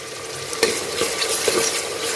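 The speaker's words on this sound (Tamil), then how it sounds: "இந்த வெங்காயம் வதங்கிறது தான் இருக்குது கிரேவி டேஸ்ட் கொடுக்குறது" Chopped onions sautéing in a pan for Tamil-style mutton gravy, with a steady sizzle and a few soft stirring clinks and scrapes, close and continuous.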